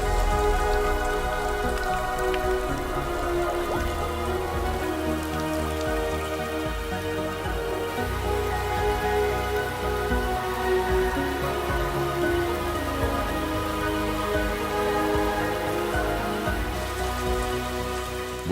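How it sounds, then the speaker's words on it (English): Heavy rain pouring down in the Florida Everglades, a dense steady roar of drops that holds loud and unbroken from start to finish with no voices. "And in Florida, when it rains, it pours."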